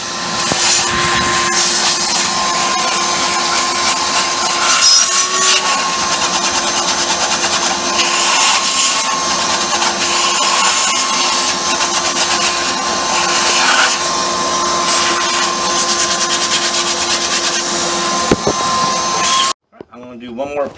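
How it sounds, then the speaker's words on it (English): A steady, loud whine of a vacuum running alongside power sanding on a Penta 5.0 marine engine, continuous drone with a constant tone, cutting off abruptly near the end. "While I'm sanding, I'll use the vacuum. I'll sand right into the vacuum"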